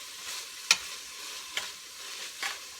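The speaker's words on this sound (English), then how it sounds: "So the onions are getting soft and sauteed." Onions sauteing in a pan for apple sauerkraut give a soft, steady sizzle, broken by a few sharp stirring clicks against the pan, heard alone and fairly quiet.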